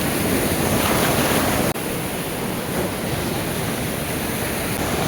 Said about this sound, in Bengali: এখন হাই টাইড, এখন একদম মানে আপনার একদম বিল্ডিংয়ের গোড়া অবধি এখন সব জল চলে এসছে।